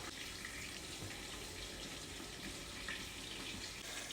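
Tamarind juice poured into dosa batter in a home kitchen, a faint steady trickling liquid stream running continuously and quietly.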